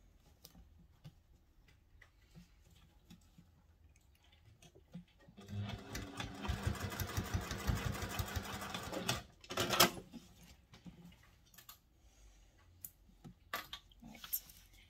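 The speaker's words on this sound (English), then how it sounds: "sew them with the seam allowance given in the pattern. And then just top stitch them." A sewing machine topstitches sling bag pieces in a quiet room, running in a short steady burst of rapid ticking, followed by a few scattered clicks and handling noises.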